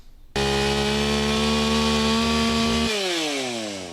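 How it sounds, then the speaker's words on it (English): A chainsaw revs loudly and steadily as National Guard wildland firefighters cut wood to prevent wildfires, a close sustained engine drone that drops in pitch near the end as it bogs into the cut. "this team trading in their guns for chainsaws"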